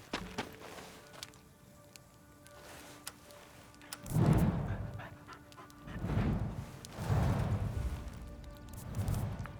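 A dog in a video game pants in several heavy bursts of breath, close and moderately loud, over quiet game ambience.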